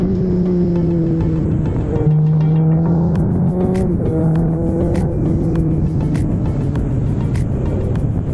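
A Kawasaki Z900SE motorcycle fitted with an ARG racing muffler revs hard on a coastal road, its engine pitch climbing and dropping in loud, close repeated pulls with a raspy exhaust note, no talking.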